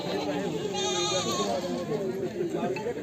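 Goats bleat at a livestock market in Bargari, Punjab. A clear, wavering bleat stands out over the busy crowd noise, with people talking nearby.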